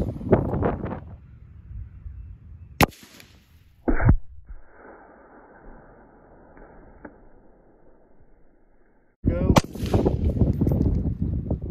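A sharp 8.6 Blackout rifle shot cracks outdoors, followed by a second impact as the bullet hits water jugs, with wind noise between and people talking loudly before and after.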